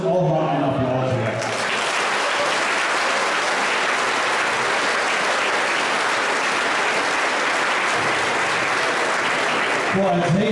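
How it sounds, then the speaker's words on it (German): An audience at the Rock gegen Krebs 2016 event in Oerlinghausen applauds the volunteer helpers, a dense sustained clapping that swells quickly after a brief voice and holds steadily loud for about ten seconds. "ich glaube, das ist auch mal ein Applaus wert"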